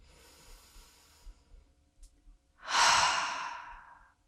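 A deep full breath in and out during a plantar fascia self-massage session: a faint inhale followed by a long, loud, close exhale that slowly trails off.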